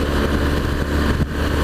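A big BMW motorcycle engine drones continuously as the bike rides along a forest road, a loud, close, steady rumble with a brief dip near the end.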